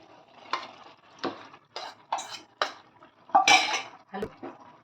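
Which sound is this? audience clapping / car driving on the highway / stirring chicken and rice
stirring chicken and rice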